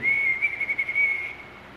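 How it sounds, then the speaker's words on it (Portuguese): One long, steady whistle, held for over a second with slight wavers, calls a falconry bird to the lure, clear and alone before fading out. "No lure você faz um apito longo."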